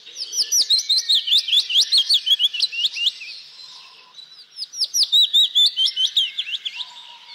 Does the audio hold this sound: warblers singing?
yes